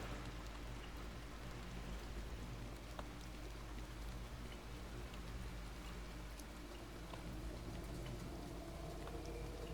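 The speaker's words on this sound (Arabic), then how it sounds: "احنا في الشارع وصوت المطر عالي" Steady, dense heavy rain pours down on a street, a continuous wash of hiss with a low rumble underneath and occasional sharper drips.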